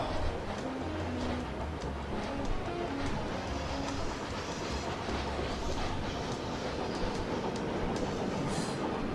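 Trains rolling along the rails in the railway simulation game Chris Sawyer's Locomotion, a steady rumble with clickety-clack wheel rhythm that stays loud and continuous throughout.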